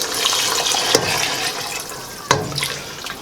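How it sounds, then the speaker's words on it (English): Beef broth pours into a pan of Bolognese sauce as a continuous bright liquid splash and trickle, with two short sharp clinks or knocks partway through and no voices. "We're going to add our beef broth."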